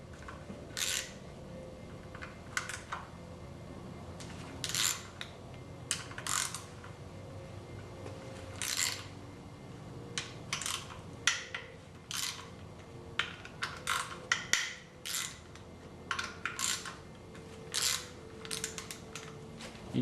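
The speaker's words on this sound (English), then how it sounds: "We're going to remove all the 12mm bolts first." Wrench work on 12mm bolts of a Nissan KA24DE timing cover, faint close-up ratchet clicks and metallic ticks in scattered short bursts over a quiet background.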